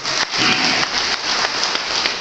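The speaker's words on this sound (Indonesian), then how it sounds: "Kawan-kawan jangan tepuk tangan dulu" Audience applause at a Partai Bulan Bintang party meeting in Kuningan, a sustained, fairly loud wash of clapping from many hands that carries on evenly without a break.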